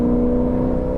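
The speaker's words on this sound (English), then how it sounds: "oh, pure unbridled V8 noises" Lexus IS F sedan's V8 revs hard, a loud, steady, tonal engine roar heard close and alone without any talk.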